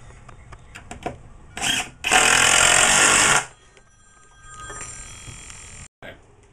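Screws are driven into a Superior Bee Supply beehive body kit with a power driver: two short whirring bursts, then one long loud run, and later a quieter, longer run. Low background noise sits between the bursts.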